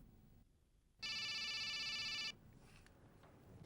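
A forgotten cellphone rings with a bright electronic ringtone, one steady burst of about a second lasting to a sudden stop, clear and close over a quiet room hum.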